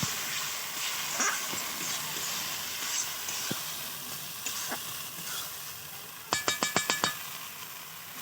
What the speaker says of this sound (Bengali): এবারে চাল মগজটা দিয়ে অল্প কিছুক্ষণ নাড়বো।